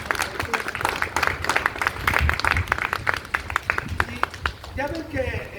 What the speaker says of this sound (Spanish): Un fuerte aplauso para el dramaturgo.